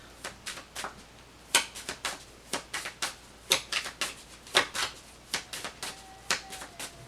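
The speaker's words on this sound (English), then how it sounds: "So let's go ahead and pull some clarifying cards here." Tarot cards being shuffled and pulled during a reading: a run of quick, crisp papery snaps and flicks in uneven bursts, close and fairly quiet, with no talking.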